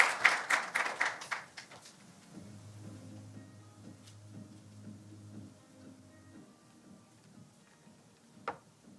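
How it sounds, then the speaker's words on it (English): Applause for a speaker at an academic conference session opens with a short burst of clapping that quickly dies away, leaving a quiet room with a low hum and a few faint clicks. "let's give a big applause to our leading speaker, to Mr. Im-Yi-suk."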